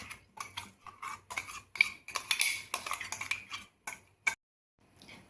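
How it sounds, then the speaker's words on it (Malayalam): Ground papad chutney scraped and transferred onto a plate with a spoon, giving a run of light metallic clinks and scrapes against the dish, fairly close, with no talking, ending in a brief pause. "അപ്പോൾ അരച്ചത് ഞാൻ പ്ലേറ്റിലേക്ക് മാറ്റി"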